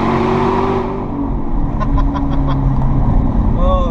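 A 2017 Chevrolet Camaro ZL1 with 675 hp and automatic transmission accelerates through a tunnel, its engine droning loud and close with rising, echoing tones, while voices talk over it.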